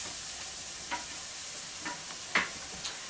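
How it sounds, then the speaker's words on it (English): Garlic and onions sizzling in a pan for katahar curry, with a faint steady frying hiss and a few soft scraping stirs of the spoon at irregular intervals, no talking. "And give it a stir."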